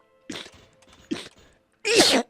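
Two short sharp bursts are followed by a louder, drawn-out sneeze, all heard close and distinct against near silence.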